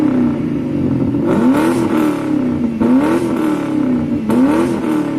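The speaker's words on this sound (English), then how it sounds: "It's probably one of the best sounding exhausts you'll ever find on a Crown Vic, and maybe even a 2-valve Mustang." A 2004 Ford Crown Victoria Police Interceptor with an aftermarket exhaust idles loudly and close, blipped through three quick revs that rise and fall in a deep rumbling burble.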